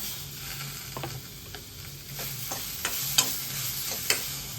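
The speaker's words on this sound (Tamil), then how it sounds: "இது எல்லாமே நல்லா வதக்கி விடலாங்க" Ginger, garlic and tomatoes sizzle and get stirred in a pan, a steady close frying hiss broken by a few scrapes and clinks of the spoon.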